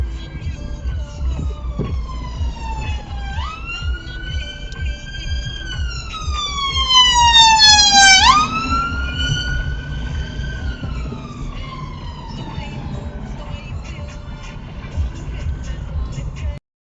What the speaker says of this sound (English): In this case, it's an emergency ambulance.